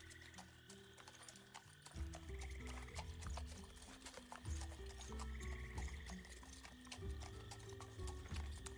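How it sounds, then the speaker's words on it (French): Background hoofbeats of a horse clip-clop in a steady rhythm at low volume, looped as ambience during a tabletop role-play session, with faint rattles and clicks mixed in. "Moi, j'arrête mon cheval, du coup."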